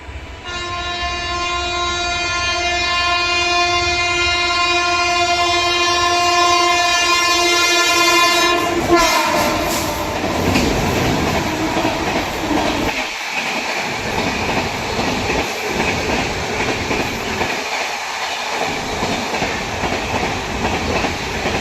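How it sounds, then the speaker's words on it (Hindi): Rewa Express overtaking at a junction, opening with a long, loud sustained horn blast that gives way to the heavy roar and rattle of coaches rushing past close by, with rhythmic clatter over the rails. "आ चुकी है भाई रीवा एक्सप्रेस भी ओवरटेक करने।"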